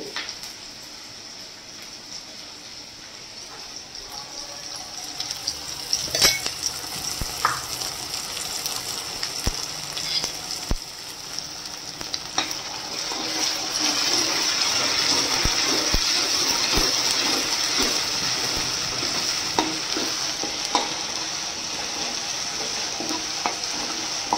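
Garlic paste with ground coriander sautéing in a pan for Saoji-style mutton trotters, a steady broadband sizzle with scattered crackles and a few sharp spatula clicks, rising slightly louder midway and continuing without talk.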